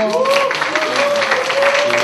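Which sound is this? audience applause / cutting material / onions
audience applause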